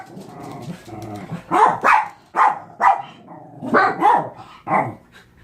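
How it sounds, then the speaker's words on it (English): Dogs indoors bark at unfamiliar visitors in the house, giving loud, close bursts in uneven pairs and clusters, with a low growl underneath between barks. "there's people in our house, and they're right to bark the way they are because it's someone they don't know"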